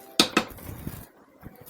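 Ground masala being mixed into chicken sambar, with two sharp close clinks of a utensil against a metal pot followed by softer scraping and a few light knocks.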